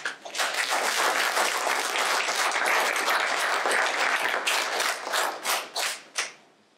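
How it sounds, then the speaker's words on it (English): Audience applause at a completion ceremony, a dense burst of clapping from many hands that holds steady for several seconds, then thins into scattered claps and fades. "I think my colleagues' hard work deserves a round of applause."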